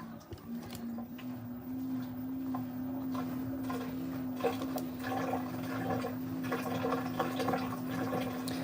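Water sloshes and trickles inside an LG WM3600HWA front-loading washing machine on its rinse cycle, a steady churning wash under a constant motor hum, with irregular splashing that builds in the second half.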